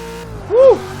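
Ford Mustang Fox Body drift car with a 5-litre engine in the racing game Forza 6, giving one short, loud rev that swells and falls within a second over a steady low engine tone.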